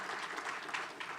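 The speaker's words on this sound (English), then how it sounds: "let's have a round of applause for Pam." An audience claps for Pam Lampett, the county clerk, at the Camden County Conference on Food Insecurity, a brief burst of dense, continuous applause at full strength with no voices over it.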